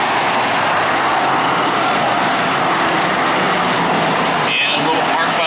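Factory stock race cars restarting on a green flag at Perris Auto Speedway, a loud, dense roar of engines filling the track with sustained power under an announcer's voice.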